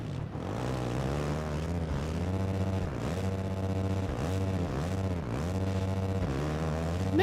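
A Husqvarna 450 dirt bike engine in a Supercross racing game, a steady buzzing whine that rises and falls as the rider works the throttle through repeated dips, continuous and close with no talk.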